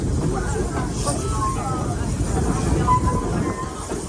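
Busch Gardens Serengeti tour train rolling along in Tampa, a low steady rumble of the moving cars under a guide's amplified narration.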